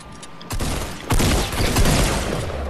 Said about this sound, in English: Oh, they're throwing grenades at us.